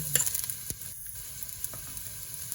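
Sliced ginger sizzling in a pan at the start of cooking lugaw, a soft continuous frying crackle with a few small pops and stirring scrapes, close and without talk.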